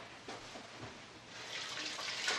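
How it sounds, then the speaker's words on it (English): Running tap water with hands being washed under it at a kitchen sink, a steady close hiss that swells slightly toward the end, with no talk. "we're going to wash our hands"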